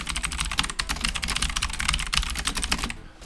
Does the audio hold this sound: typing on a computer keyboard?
yes